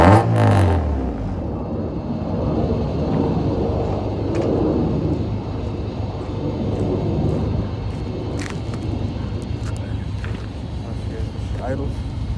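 An H2B build car with a stand-in P30 ECU idles slightly unevenly, giving a low, steady, close hum after a louder burst at the very start.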